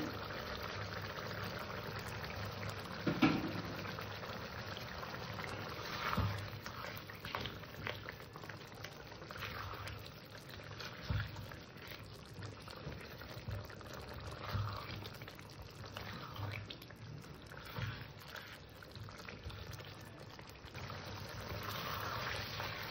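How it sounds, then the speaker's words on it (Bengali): Aloo dum with kasundi simmering in a pan over low gas, a steady soft bubbling and gurgling that runs continuously at close range, with a few louder pops and no voices. "কাসুন্দিটা দিয়েও আমি প্রায় 2 মিনিট 3 মিনিট মতন ফুটিয়ে নিয়েছি।"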